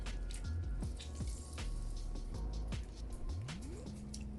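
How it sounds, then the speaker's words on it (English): Half a lemon squeezed by hand for juice, giving wet squishing and dripping sounds, close and quiet, with a few drips and trickles falling into liquid. "I'm just going to squeeze half of lemon juice"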